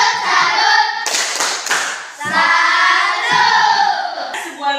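A classroom group performs the rhythmic 'tepuk salut' clapping routine, with sharp claps in a patterned beat and voices chanting along loudly throughout.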